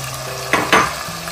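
Tomato goes into a frying pan of prawn heads for a fish soup, giving two quick bursts of sizzling and stirring against a steady low hum of cooking.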